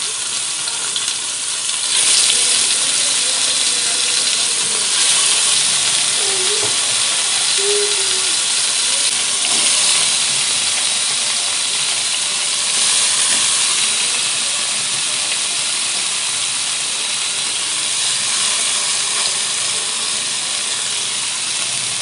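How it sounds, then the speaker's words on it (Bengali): Lote fish fry in hot oil with turmeric, giving a loud, steady sizzling hiss that fills the whole stretch, close and unbroken, with faint bubbling and occasional crackles. "দেখুন এইভাবে ভেজে নেব ভালো করে।"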